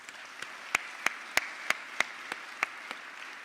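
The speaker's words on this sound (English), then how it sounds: "How about a round of applause?" Sparse clapping from an audience at a county State of the Community address, roughly ten distinct claps spaced evenly over a quiet room, moderately close.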